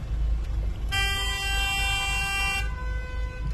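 A single long car horn blast, lasting nearly two seconds, rings out over the steady rumble of crowded street traffic in Jerusalem, with more drivers honking nearby.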